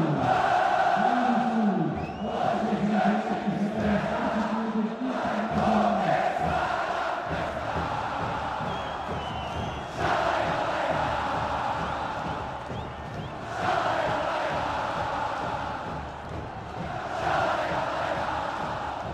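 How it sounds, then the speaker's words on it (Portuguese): Internacional supporters sing in chorus at the Beira-Rio stadium during the 2010 Copa Libertadores final, a dense, sustained crowd roar rising and falling in waves, with a commentator's voice faintly under it at times. "Olha a torcida cantando."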